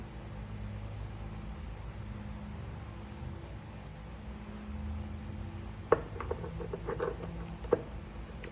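Metal parts clink as a clutch cam is fitted onto the shaft of a Trackhawk SRT8 MP3015 transfer case during a rebuild, a few light close taps and clinks over a steady low background hum.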